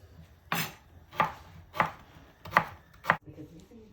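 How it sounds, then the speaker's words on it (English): A knife chops vegetables and chorizo on a board in five distinct, evenly spaced thuds, close and clear over a quiet background, with no voices. "What I try to do is cut all the food into pieces that fit on the spoons."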